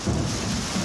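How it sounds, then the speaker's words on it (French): Thunder from a violent thunderstorm over Nîmes rumbles loud and continuous, a brief dense roll with rain texture beneath it. "la ville de Nîmes se fait matraquer par la foudre"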